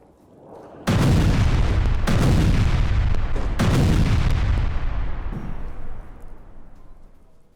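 Israeli missile strike explosions near a Gaza shelter camp, three heavy, loud booms in quick succession with a long rumbling roar that slowly decays.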